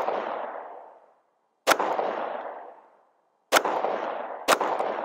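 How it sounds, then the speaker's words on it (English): Three loud, sharp gunshots fired at a target through a 3 MOA red dot reflex sight, spaced a couple of seconds apart outdoors, each followed by a long fading echo. "let's shoot 5 rounds down the middle, see where we're hitting."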